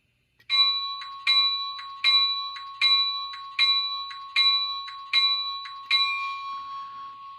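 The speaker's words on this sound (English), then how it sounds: "Let's start again with the Go Transit, and we'll listen to the bell." The bell of an Atlas Gold Series GP40-2 Go Transit model diesel locomotive rings clearly about eight times at an even, steady pace, each strike ringing on briefly before the last one fades out, with no talking.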